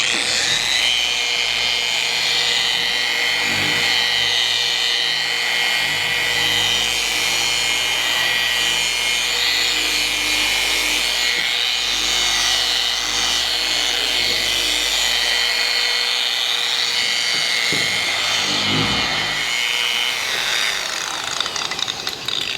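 A dual action polisher spreading wax on Jeep paint at a low speed setting, a continuous loud whirring hum that holds steady throughout with no talk.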